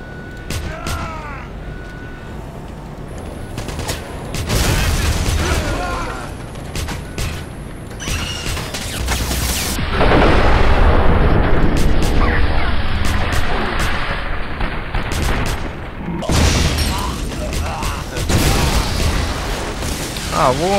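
An enemy blowing up in a Wolfenstein game: heavy booming bursts and crackling blasts come in waves, mixed with mechanical clatter, while someone talks over much of the clip.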